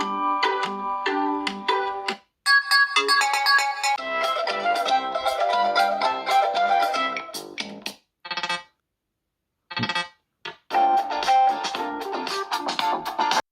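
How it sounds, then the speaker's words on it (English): Standard ringtone played through the mono speaker of a FreeYond M5 5G phone, a bright, plinking electronic melody of rapid notes that stops briefly twice, with no talking over it. "Wow, funny standard ringtones here, and even the speaker has a little bass."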